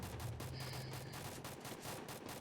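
Rapid bursts of video game gunfire crackle continuously, dense and fairly quiet, like an ongoing firefight heard from a short distance.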